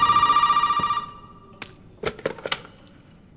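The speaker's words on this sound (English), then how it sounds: "Alright, so this phone's ringing here." A telephone in the horror game Resident Evil 7 rings with a loud, rapidly trilling bell for about a second, then cuts off, followed by a few scattered sharp clicks and thuds.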